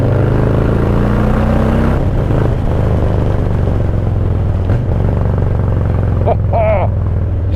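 A Harley-Davidson Low Rider S motorcycle engine rumbles loud and close throughout, holding a deep steady drone with a brief rise early on, while wind buffets and a voice talks over it.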